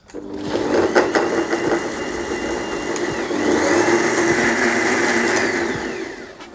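An electric blender whirs loudly and steadily while mixing keto coffee, a close, sustained motor drone that rises slightly in the second half before cutting off.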